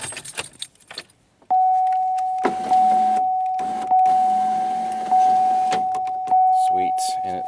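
Power window motor on a Pontiac Grand Am after repair, a steady close whine that starts abruptly and runs for several seconds, rising in repeated surges as the glass travels, with some clatter before it begins.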